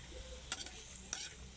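A Chinese stir fry with Hong Kong chicken powder sizzles steadily in a pan, a close hissing bed broken by two brief clinks or scrapes of stirring, with no talking.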